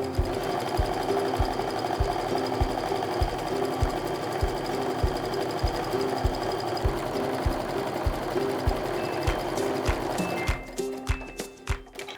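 A sewing machine stitches together quilt pieces with a scant quarter-inch seam, a steady rapid mechanical clatter running close and loud before it slows and stops near the end.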